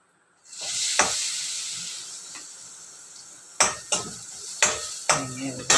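Grated coconut dropped into hot oil with spices and curry leaves for a chickpea dish, a loud, steady frying sizzle that gradually fades, then sharp metallic clicks of a spoon stirring against the pan near the end.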